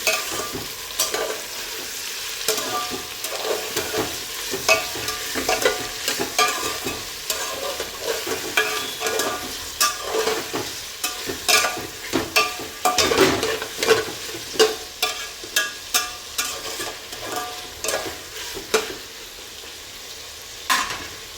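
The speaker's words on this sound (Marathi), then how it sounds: "हे सर्व मिक्स छान करून घ्यायचं आहे." Masala rice mixture with ivy gourd being stirred in a pan, a steady sizzle under repeated scraping and clinking strokes of a spoon against the pan, close and fairly loud throughout.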